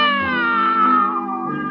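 A voice imitates a cat with a long, drawn-out meow that slides slowly downward in pitch, heard alone and close.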